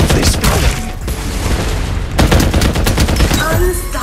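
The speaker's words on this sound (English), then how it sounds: "Open fire!" Dense gunfire in the Farlight 84 battle royale, a sustained fusillade of rapid shots and booms running across the whole stretch with a brief dip near the middle, with faint game voices mixed underneath.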